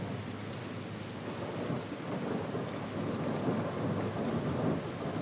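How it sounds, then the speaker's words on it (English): Steady heavy rain with rolling thunder in a video game, a dense continuous wash of sound at even loudness from start to finish, with no voices. "The storm sounds worse."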